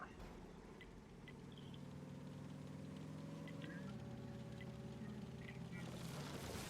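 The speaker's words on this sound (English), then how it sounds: "It purrs. The engine purrs." A video game engine hums low and steadily at a distance, its drone shifting slightly in pitch, beneath faint background game sounds and a little chatter.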